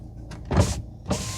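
Power windows on a 1.8 LT Cruze car whir twice in short bursts, each motor run about a quarter second, close up inside the cabin over a faint idle hum.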